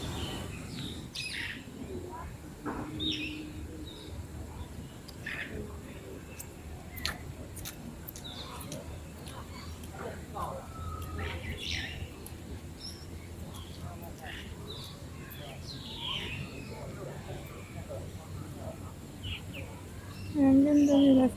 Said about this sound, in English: Ang dami mga ibon.